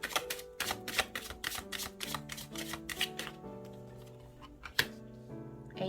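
Tarot cards being shuffled and drawn for a romance reading, giving quick papery clicks and flicks in an irregular rhythm, close and fairly quiet, over faint tonal background music.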